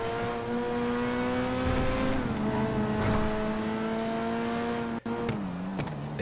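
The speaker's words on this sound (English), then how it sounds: "Oh, this car's gonna give out on me." A badly damaged car in Grand Theft Auto 5 holds a loud, steady engine drone with a sustained tonal whine that dips and shifts pitch near the end, with no speech.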